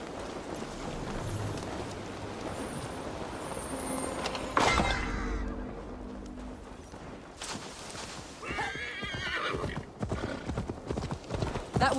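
A horse's hooves clip-clop steadily in the video game Assassin's Creed Valhalla, a brisk rhythmic clatter close by, with a few louder bursts of game sound breaking in partway through.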